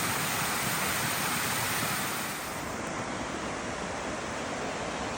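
Hiker's Peril Falls on the Foothills Trail, swollen by heavy rain, sends out a loud, constant rushing roar. The roar stays steady and close, with no voices.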